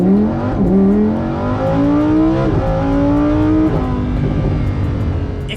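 Lamborghini Huracan Evo engine revving hard and climbing through several upshifts, each rise in pitch cut by a quick shift, loud and close with no talk.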